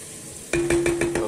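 Paprika fries in a pan while being stirred quickly, a soft sizzle broken by four or five rhythmic scraping strokes that start abruptly partway through, close and fairly loud.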